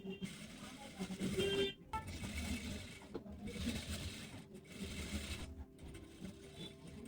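A sewing machine stitches a blazer collar in short bursts of rapid mechanical whirring separated by brief pauses, fairly quiet, with faint background sounds between runs.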